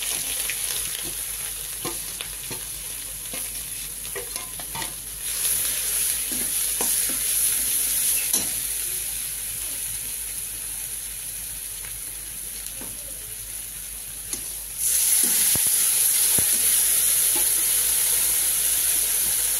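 Eggplant frying in a pan as spices are added, with a loud, steady sizzle close by and repeated scraping stirs throughout. The hiss swells brighter partway through and again near the end.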